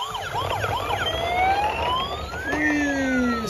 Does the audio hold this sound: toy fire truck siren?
yes